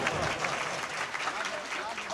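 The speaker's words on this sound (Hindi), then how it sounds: "तो जोरदार तालियां एक बार" Audience applause at a poetry recital in Dongaon, Buldhana, a dense continuous burst of clapping filling the whole moment at moderate loudness, with voices mixed in.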